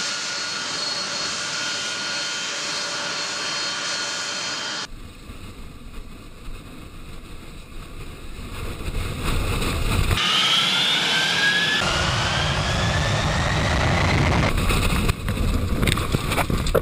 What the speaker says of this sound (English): This car is getting blown away by a Boeing 747 aircraft.